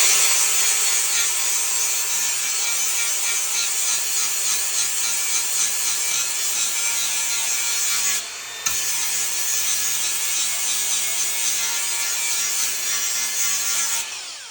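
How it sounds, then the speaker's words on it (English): A small handheld grinder scours rust off a square-body truck's metal body, a loud, steady abrasive whir that runs almost unbroken, with one brief drop near the end, and no talking. "Let me try my little grinder. See if that'll help out some of this rust."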